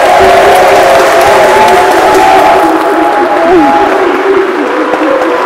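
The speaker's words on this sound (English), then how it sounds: "And everyone can clap." Wedding guests clap and cheer loudly right after the couple's kiss, a dense steady wash of applause and crowd noise with music-like tones running beneath and fading slightly toward the end.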